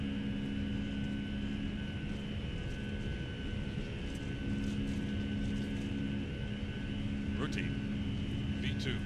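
Boeing 757 jet engines at takeoff thrust in the FSX flight simulator game, a steady, dense broadband roar with sustained tonal whine, loud and unbroken throughout, with faint brief clicks near the end.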